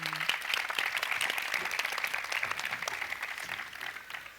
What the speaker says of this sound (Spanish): les damos un fuerte aplauso a las 4